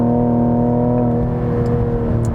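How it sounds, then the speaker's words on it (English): A 2020 Cadillac CT5-V with a 10-speed transmission, floored from a standstill, its engine giving a loud, steady harmonic drone that holds close and strong throughout. "The 10-speed in this car, floor it from a stop,"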